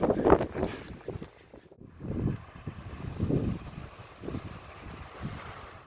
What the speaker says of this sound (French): En plus on a du vent, heureusement qu'on a du vent.